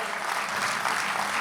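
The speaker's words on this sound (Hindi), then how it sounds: "योगी जी के नाम पे जो ताली बजी" An audience at a Hindi comedy and poetry show claps in a brief, dense burst of steady applause that fills the room.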